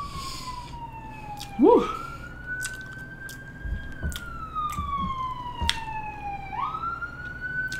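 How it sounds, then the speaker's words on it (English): An emergency vehicle siren wails outside near a hospital, rising and falling in long sweeping tones at moderate distance, with a brief exclamation from a voice and faint background noise. "It's always a siren every time I do your video"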